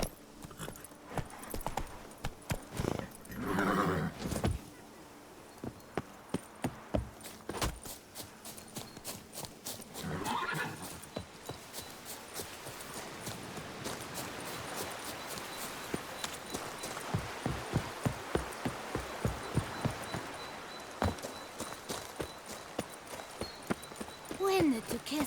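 A horse gallops in The Witcher 3, its hooves beating a steady clip-clop rhythm for most of the stretch, with game voices and ambience mixed in.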